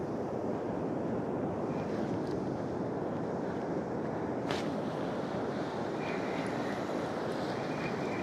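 Ocean surf breaking on a beach as the swell builds, a constant loud wash of rushing water mixed with wind across the microphone, no talk.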